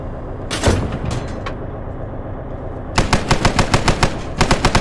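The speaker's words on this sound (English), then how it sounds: "Look at this machine gun lighting up even." Machine-gun fire in the WW2 setting of ArmA 3: a short loud burst and a few scattered shots, a lull, then long rapid bursts of rattling automatic fire.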